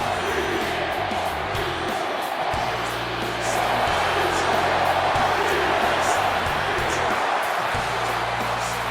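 Dense wrestling-event crowd noise fills the space throughout, a sustained roar of cheering with occasional whoops, loud and steady.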